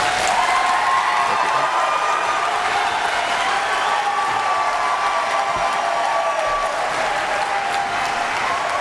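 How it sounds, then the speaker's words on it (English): Live studio audience at a televised congressional district debate applauding the candidates, a loud, steady wash of clapping with faint cheering that runs unbroken for about nine seconds. "And now to the live audience, your chance to applaud your candidates."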